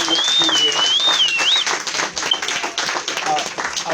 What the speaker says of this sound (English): give her another well-deserved round of applause for allowing us to be here